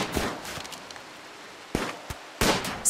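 Gunfire in the colony-building game Rimworld: a few soft early pops, then three sharp, loud bangs in quick succession near the end, each a crisp, broadband crack.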